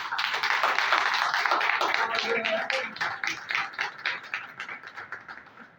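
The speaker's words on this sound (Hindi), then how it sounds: "आज जावेद की बर्थडे है, तो हम सब भरपूर तालियों में उनको विश करते हैं।" A gathered audience claps for a birthday celebration at an evening talk, a dense burst of hand claps that starts full and thins into scattered, fading claps.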